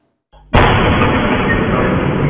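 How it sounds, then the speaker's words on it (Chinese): A missile strikes a power plant in Dnipro, Ukraine, and the blast comes as a sudden, loud, roaring burst that holds for about two seconds before cutting off. "巨大的爆炸声响"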